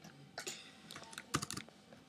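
Typing on a computer keyboard while writing JavaScript code: quiet, irregular bursts of key clicks in quick clusters, close to the microphone.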